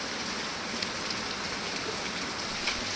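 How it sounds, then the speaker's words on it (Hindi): Heavy rain falls at night in the mountains, a dense, even hiss of drops on surfaces that stays constant and moderately loud throughout, with no voices. "बारिश बहुत तेज़ लगी हुई है"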